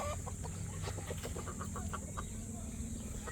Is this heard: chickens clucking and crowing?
yes